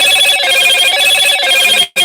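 Telephone rings loudly and continuously at close range during a live stream, a steady electronic ringtone with a brief break near the end and no voices over it.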